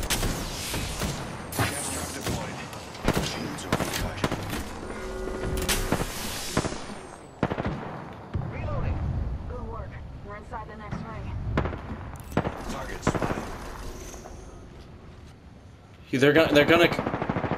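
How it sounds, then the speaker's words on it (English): Bursts of gunfire in the video game Apex Legends crack out in scattered, sharp volleys, some close and loud, some farther off, while players talk over the fight. "I wish he stopped shooting, man."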